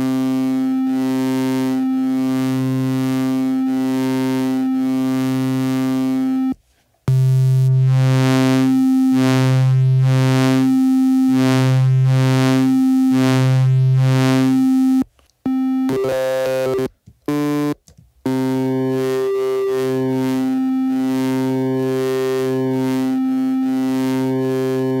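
An OP-1 Field's Dr. Wave synth engine plays a triangle waveform, repeating pulsing notes with a shifting filter tone, loud and clean with a few brief dropouts and no talking.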